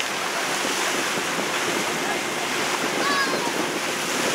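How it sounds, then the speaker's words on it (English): Atlantic Ocean water rushes past a boat heading to Robben Island near Cape Town, a steady, close surf-like hiss mixed with wind buffeting the microphone, with faint voices now and then. "This is the Atlantic Ocean."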